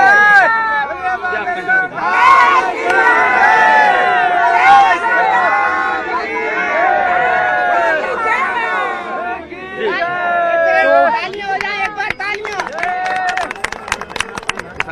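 Audience applause and cheering erupt amid a busy crowd, with excited voices and babble building into clapping bursts toward the end.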